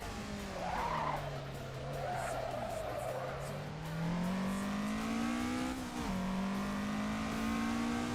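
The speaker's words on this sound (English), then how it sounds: "make sure you trail brake into the corner to induce some rotation in the car" Race car tires squealing and skidding under trail braking into a corner on the Akina downhill course in Assetto Corsa, a continuous screech over a droning engine note that rises and dips through the bend, with no talk.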